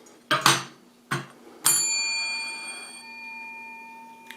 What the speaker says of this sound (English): make sure that you ring that little bell.